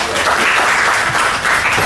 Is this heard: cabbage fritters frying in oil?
no